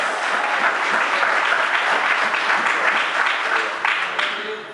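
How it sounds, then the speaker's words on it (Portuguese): A congregation claps and applauds, a dense, steady wash of many hands lasting several seconds before tapering slightly at the end. "Pode aplaudir o Senhor, aleluia!"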